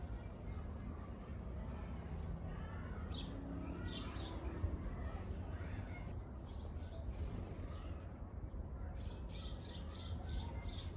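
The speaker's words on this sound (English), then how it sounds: "that bird felt like it flew right next to my face" A bird flutters past very close while chirping and squawking in bright bursts over a steady background hiss, with a few scattered calls coming and going through the scene during crafting with yarn.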